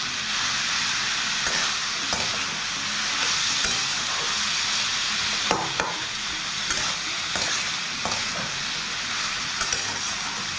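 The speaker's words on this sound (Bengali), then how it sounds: "দু মিনিট মতো ভালোভাবে নাড়াচাড়া করে মিশিয়ে নেব।" Banana stem (thor) chechki stirred and fried in a pan, a steady loud sizzle running throughout with scraping stirs of the spatula layered on top, no talking.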